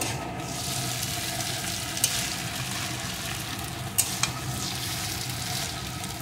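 Maggi noodles with egg, vegetables and masala are stirred in a hot pan, giving a steady close sizzle with a few scattered scrapes and clicks from the spoon, no voices.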